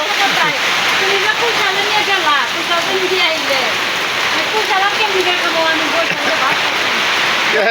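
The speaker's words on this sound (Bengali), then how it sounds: "হাটে থেকে বসে পড়েছি প্রচণ্ড বৃষ্টি দেখেন বৃষ্টি আর বৃষ্টি" A loud, continuous downpour on a village roof and ground, dense and unbroken, with voices faintly audible beneath the hiss.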